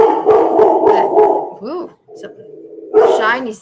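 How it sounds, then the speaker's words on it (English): A dog barks indoors near a door, a few quick muffled yips and whines mixed under someone talking, with one louder bark-like burst near the end. "excuse my dog. Somebody must be walking on the street close to the door."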